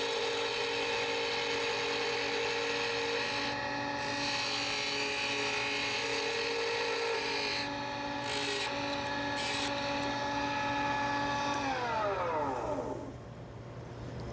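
A small tool trims wood on a turning lathe, giving a steady, loud whining drone with a sustained tone that holds throughout and dips in pitch near the end as the machine winds down.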